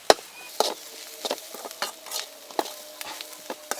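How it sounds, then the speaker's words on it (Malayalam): Shallots sautéing in coconut oil for a Kerala-style chicken dish give a soft, fairly quiet sizzle under irregular knocks and scrapes of a spoon stirring the pan, roughly every half second, with no voice. "ഇനി ഇത് ഒന്ന് വാടി നന്നായിട്ട് വരട്ടെ."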